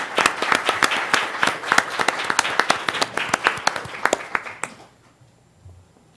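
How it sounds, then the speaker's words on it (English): Applause at a school board meeting for students' family members, a round of loud, sharp, fairly sparse hand claps from a small audience that tapers off and stops, leaving near silence. "can you stand so we can give you a round of applause?"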